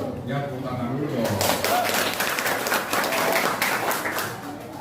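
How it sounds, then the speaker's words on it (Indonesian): An audience of teachers and students applauds on request in a classroom, with dense, steady clapping rising after a brief pause and holding strong before tapering. Voices murmur underneath. "Ya, tepuk tangan dulu dong."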